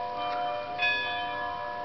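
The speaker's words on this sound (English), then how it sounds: "you can sort of see him ringing the bell." Bright, ringing bell tones from the bellman figure on a Black Forest cuckoo clock, close by and moderately loud, with a fresh strike partway through and sustained metallic overtones decaying over faint room noise.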